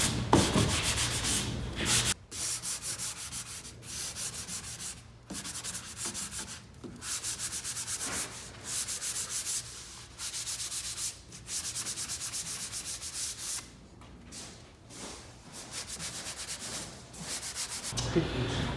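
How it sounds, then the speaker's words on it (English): Wood trim is sanded by hand with a sanding sponge, making steady rough scratchy rubbing strokes in bursts with brief pauses between them, close and moderately loud. "sand each one of these with the sanding sponge"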